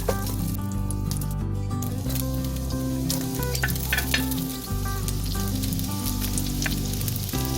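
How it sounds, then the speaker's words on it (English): Vegetables and noodles sizzle and crackle steadily in a hot wok, with occasional scraping stirs over the constant frying hiss, quite close. "While stir frying the veggies,"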